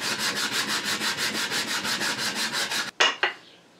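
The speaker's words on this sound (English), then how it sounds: "All I have to do is sand onto the wood and then stop and then feather it out that way." Steady rhythmic strokes of sandpaper on pine wood, shaping a rifle pattern stock, run close and even for nearly three seconds and then give way to a couple of sharp knocks.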